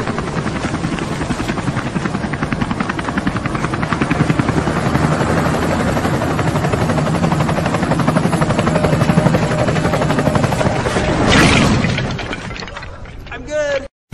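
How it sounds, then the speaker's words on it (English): A helicopter flies close by with a loud, steady roar and rotor drone that holds for most of the stretch, swells briefly near the end, and is cut off by a short whoosh. "I built this helicopter to get me there."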